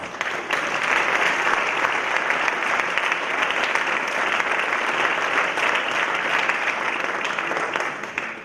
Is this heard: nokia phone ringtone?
no